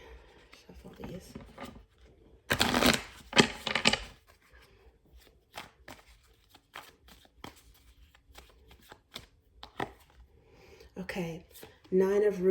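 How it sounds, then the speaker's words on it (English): Oracle cards shuffled by hand in two dense bursts, a soft riffling flutter close by, with quieter handling taps before and after and a voice briefly speaking near the end. "Okay, shuffle these."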